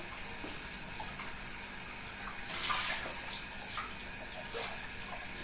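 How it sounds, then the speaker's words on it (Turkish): Tap water runs steadily at a moderate distance, with a brief splashing surge midway as something is rinsed under the stream. "Şöyle su tutuyorum sosu gitsin diye"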